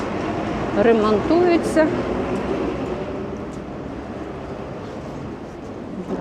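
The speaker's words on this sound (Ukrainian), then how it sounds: "П'ятий з Аркадії трамвайчик" A tram rumbles past on a busy street in Odesa, near Privoz market, a steady low mechanical drone with squealing wheel tones, while someone speaks briefly over it.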